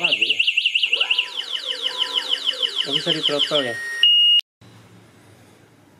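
A Fiido Q1 e-bike alarm blares a rapidly warbling siren that shifts pattern partway, then switches to a steady high beep and cuts off abruptly; someone talks over it near the end.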